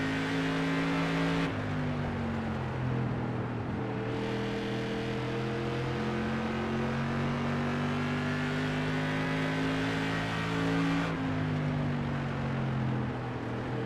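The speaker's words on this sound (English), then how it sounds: "Listen to the throttle response by Hacker here tonight" Engine of the number 11 SK Modified race car, heard on board, drones loudly and steadily throughout, its pitch stepping up and down with throttle changes, with no talk over it.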